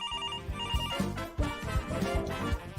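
A radio station request line telephone rings in quick repeated electronic trills over a rhythmic musical backing, and no one speaks.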